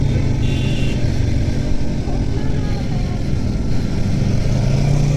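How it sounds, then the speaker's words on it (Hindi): Motorcycles revving hard in busy evening road traffic, a loud steady engine roar with low rumble throughout, heavy traffic noise around and no clear separate revs standing out. "ये लोग ना अपने बाइक को फुल पावर के साथ रेव"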